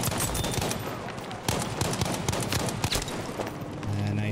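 Battlefield video game gunfire rattles in rapid, dense bursts of automatic shots with scattered single cracks, fairly quiet in the mix throughout.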